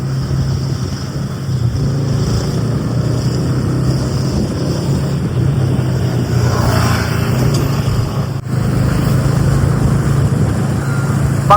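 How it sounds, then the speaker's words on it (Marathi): Road traffic on a congested single-lane road heard from a moving motorcycle, with a constant low engine drone and wind rumble and occasional passing vehicles, and no talk. "बघताय ना मित्रांनो केवढं ट्रॅफिक आहे."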